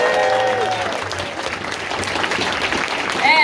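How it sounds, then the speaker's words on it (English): A crowd at an anime convention closing ceremony applauds the event staff with sustained, dense clapping that fills the hall, along with some whoops and faint voices. "can I get you all to give a round of applause to all of like the Minami Canon staff and everybody for putting on this amazing"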